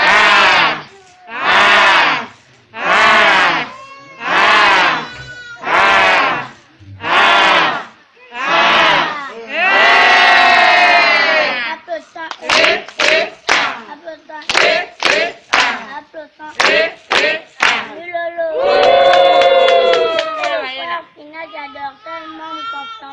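A church congregation chants a rhythmic acclamation in loud unison, with bursts of group clapping and shouted phrases repeating in a steady call-and-response pattern.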